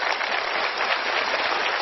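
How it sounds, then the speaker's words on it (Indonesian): Studio audience applause at an Indonesian evening talk show, a dense, steady wash of many hands clapping that holds at an even, loud level throughout, with no voices over it. "Tepuk tangan yang meriah untuk kita semua"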